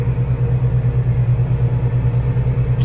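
A Case Quadtrac tractor drives along a track beside drops of about six feet, its heavy engine a loud, continuous low rumble throbbing evenly throughout.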